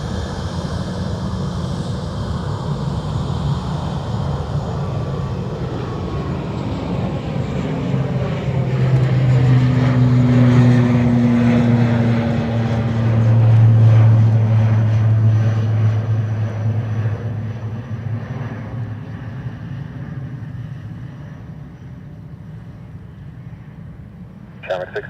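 Logan Air ATR turboprop airliner at Dublin Airport, a loud sustained engine drone that swells to a peak and then slowly fades, with a steady low hum and shifting whine throughout.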